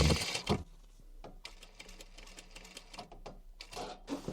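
A sewing machine stitches the seam of an upholstered box cushion cover, giving a quick burst at the start and then shorter intermittent runs with pauses between them. The sound is close and moderately loud, with no voices.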